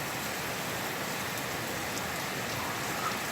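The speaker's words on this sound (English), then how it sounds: "You see the rain coming down." Heavy rain pours down on a front yard in Ghana, West Africa, during high winds, a dense, steady hiss of downpour filling the air without letup and with no one speaking.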